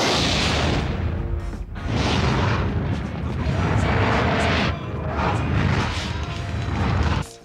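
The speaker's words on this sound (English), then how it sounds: "I just lit a rocket. Rockets explode!" A rocket explosion sound effect from the animated film Toy Story, a loud sustained roaring blast that rumbles for several seconds with a brief dip before surging again.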